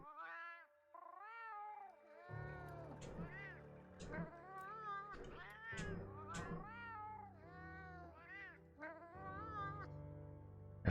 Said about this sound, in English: I really don't think I want to hear the cats talking